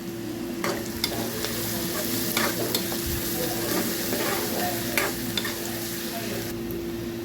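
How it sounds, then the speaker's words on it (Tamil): Onion, ginger and garlic are stirred and fried in a pan for a pomfret fish curry, producing a constant close sizzle with repeated spoon scrapes and knocks, plus a steady background hum. "வெங்காயம் இப்போ இஞ்சி பூண்டு சேர்த்துருக்காங்க அதையும் நல்லா கிண்டி விட்டு வேகட்டும்"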